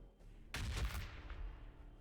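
A frag grenade explodes in Warhammer 40,000: Battlesector with a sudden sharp blast, followed by a deep rumbling tail that dies away slowly. The sound is heard alone, with no voices.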